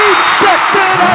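Arena crowd at a professional women's volleyball match in the Philippines, a steady roar of cheers and whoops rising and falling loudly across the moment with no clear individual voices standing out.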